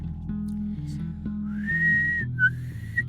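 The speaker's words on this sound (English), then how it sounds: "I'm going to try whistle again" A person whistles a steady, sustained note that rises in pitch and holds, followed by a couple of shorter whistled notes, loud and close over a low background hum.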